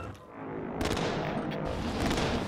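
A burst pistol fires in Call of Duty: Modern Warfare: quick clusters of sharp shots that come in close succession, loud and dense, over steady game noise.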